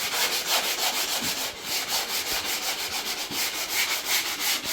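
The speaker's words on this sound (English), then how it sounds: "So I've got the 60 diamond polishing block." A 60-grit diamond polishing block rubs along the cut edge of a ceramic tile during a bathroom refurbishment, giving a steady close scraping with rhythmic back-and-forth strokes, roughly ten passes, with no talk.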